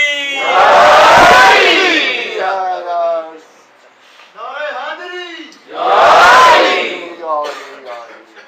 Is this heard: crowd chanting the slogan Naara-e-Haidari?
yes